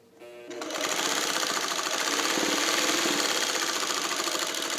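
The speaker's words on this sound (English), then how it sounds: "for those of you who sew over things like pants and heavy dense seams like this, you really are going to want a machine that's not going to lose its tension" A Singer 301A sewing machine stitches across heavy, dense seams such as trouser fabric, starting after a short quiet moment and then running as a steady, fast, close mechanical whir with a dense rapid clatter until the end.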